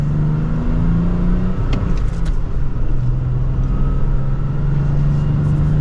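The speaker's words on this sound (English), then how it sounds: "let's do another minor acceleration for this" 2023 Toyota Tacoma with a six-speed manual accelerating mildly, a steady loud engine drone heard from inside the cab, the tone rising slightly and dipping briefly around a gear change before settling into an even hum.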